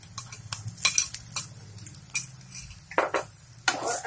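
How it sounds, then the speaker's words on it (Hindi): A spoon scrapes and clinks in a pan as ground corn paste is mixed in for a savoury corn halwa, irregular knocks and scrapes over a faint low simmer. "अच्छी तरह मिक्स कर लेंगे और इसे हम धीमी आंच में पकने देंगे"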